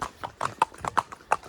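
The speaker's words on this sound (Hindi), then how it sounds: "हॉर्स राइडिंग भाई फन है" A horse's hooves clip-clop in a quick uneven rhythm during a ride through snowy streets in the Old Pahalgam valley, close and fairly soft, about eight hoof strikes.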